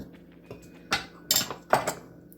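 A spoon scrapes and clinks against a bowl while bread ingredients with brown sugar are mixed, a few sharp knocks and scrapes in quick succession, close and alone.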